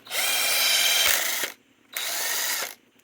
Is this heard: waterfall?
no